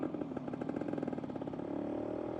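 A 1975 Yamaha DT125 motorcycle engine chatters in a rapid, steady pulse while riding, close and moderately loud, holding a constant drone without speech.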